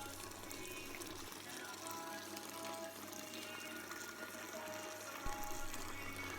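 Wort from a Grainfather brewing system is pumped and poured into a bucket during a sweet chili ale brew, a steady, faint rush and splash of liquid running continuously with a brief knock near the end.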